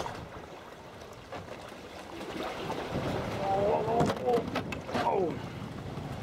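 Sea swell surges and washes through a narrow rock gap around a sea kayak off Skye, a loud, close rush of moving water that swells midway and comes with wind buffeting and a brief voice.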